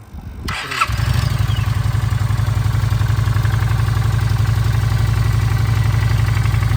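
A Honda Shadow 400 Classic motorcycle with 43,000 km on it starts up and settles into a loud, steady, close-up idle with an even rhythmic throb.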